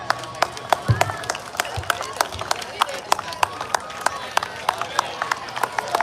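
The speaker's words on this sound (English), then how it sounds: "give a big round of applause to the students who have showcased their talent" Audience applause for a students' performance at a school math day celebration, with sharp individual claps standing out in an irregular rhythm over a steady crowd wash.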